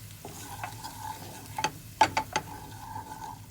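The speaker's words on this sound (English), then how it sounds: "we let the spices all simmer in for a minute, just so they can soak the flavors" Spices and lemon juice simmering in a pan for a carrot appetizer, a quiet steady sizzle broken by a few sharp clicks of a utensil against the pan, close and without talk.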